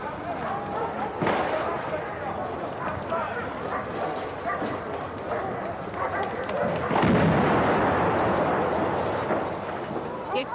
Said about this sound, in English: The explosion ripped through the building.